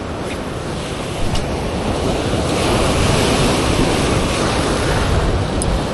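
Surf rolls and breaks on the shore of an island, loud and continuous, with wind buffeting the microphone throughout.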